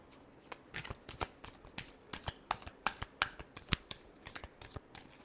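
Tarot cards riffled and shuffled up close, a dense stream of sharp papery slaps and flutters in quick irregular bursts, with nobody speaking.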